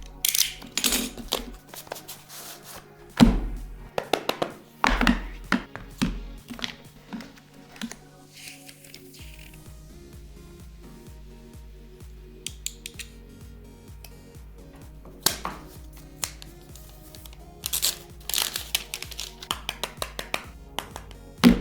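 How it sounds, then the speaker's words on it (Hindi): A Nothing Phone 2a box being unboxed up close, with scattered crisp taps, clicks, snaps and scraping of card and plastic, some bursts louder than others, across long quiet gaps and no speech. "ASMR unboxing time."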